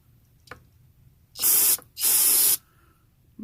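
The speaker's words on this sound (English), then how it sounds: "Sitting there spraying the other check valve I pulled out." Two strong bursts of spray hiss as fluid is forced through a check valve pulled from an early-1930s Coleman 228B lantern, close and loud, with a faint tap before and quiet between.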